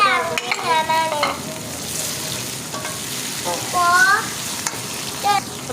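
Aloo kofte masala sizzles steadily in a pan while a utensil stirs and scrapes through it, giving close, busy frying crackle with occasional clinks.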